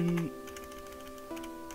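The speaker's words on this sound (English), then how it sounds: "I'm horrible at typing" Quick typing on a computer keyboard, a scatter of light clicks over a steady tonal background hum, fairly quiet and without any voices.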